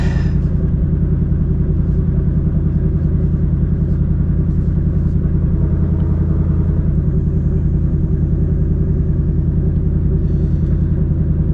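A 2024 Ford Mustang GT V8 rumbles at a steady idle, a loud, constant low throb that continues unbroken with no speech.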